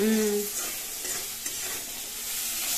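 Bata fish freshly caught from a pond, coated with salt and turmeric, stirred in a hot frying pan, with a steady close sizzle and soft scraping of the spatula throughout.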